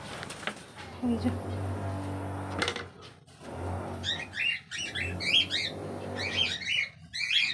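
Frightened birds in a bird house squawk and chirp in sharp, repeated bursts while a snake is inside. A person talks at first, and the calls grow denser toward the end.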